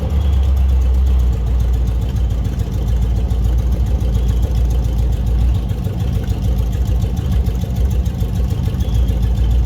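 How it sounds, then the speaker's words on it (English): A 1955 Dodge engine runs with its old transmission, producing a loud, steady, close rumble that holds without a break from start to finish. "You can hear it shifting."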